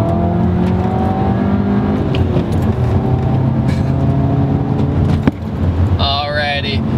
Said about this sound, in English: the exhaust on this car is a Borla exhaust